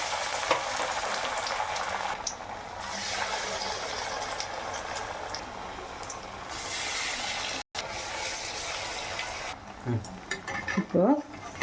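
Banana flower vada fry in hot oil with a loud, steady sizzle that carries on unbroken. Near the end there is a short pause and some clatter as more vada go into the pan.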